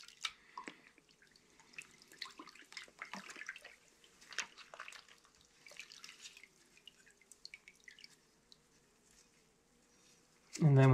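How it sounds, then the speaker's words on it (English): A blued axe head is rinsed in a container of water, giving faint trickles and drips scattered over about ten seconds, fairly close and quiet, ending in a sudden louder splash or knock. "rinse it in water, and I've got a thing of water right next to me"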